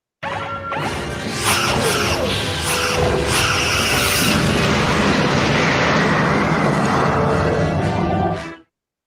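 An enemy ship explodes under phaser fire in a Star Trek radio drama effect, a loud sustained roaring blast with crackling debris that rumbles for several seconds before fading sharply.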